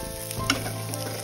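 Chopped tomato and small capsicum pieces sizzle and fry in a pan for a stuffed capsicum dish. A steady crackling hiss runs close and even, with a brief stirring scrape and no voices.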